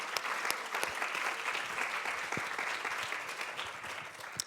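A civic event audience applauds the sponsors, with a fairly soft, steady spatter of many hands and individual sharp claps standing out, continuing without letup.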